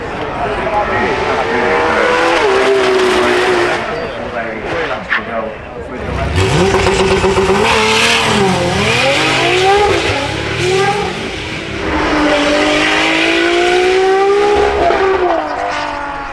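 A Red Bull RB17 hypercar drives past at the Goodwood Festival of Speed supercar run, its high-revving engine rising and falling loudly through gear changes while a commentator talks over it.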